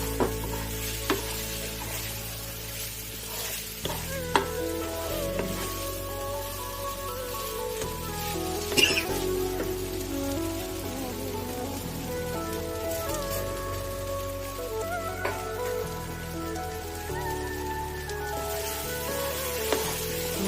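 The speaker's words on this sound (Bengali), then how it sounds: "চিংড়ির সাথে কষানো হয়ে গেছে" Shrimp sizzle as they are stir-fried with spices for chingri dopeyaja, a long even crackle like rain on a surface with occasional clinks, while faint music plays underneath.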